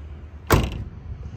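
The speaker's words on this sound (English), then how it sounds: "Shut the driver's side door." A 1966 Chevrolet Chevelle SS with a 396 engine has its driver's side door shut once, close and solid, a single thud with a short rattle trailing into quiet room noise.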